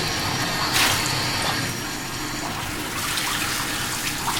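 Running water pours from a tap into a bathtub during a rinse in a bathing routine, a loud, continuous rushing hiss that stays steady throughout.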